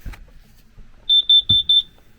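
A combined carbon monoxide, propane and smoke detector in a 2022 Scamp 16-foot camper trailer sounds four quick, shrill, piercing beeps up close, preceded by a few soft knocks.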